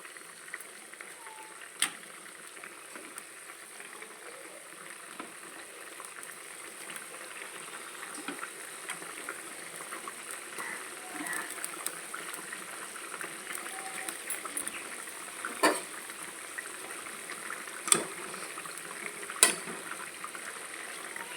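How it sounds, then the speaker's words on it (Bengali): A pan of rohu fish curry simmers and bubbles softly on the stove, a faint, steady low hiss broken by a few sharper pops and clicks. "এবার আমি একটুখানি ফুটতে দেবো মাছের মধ্যে ঝোলটা ঢোকার জন্য"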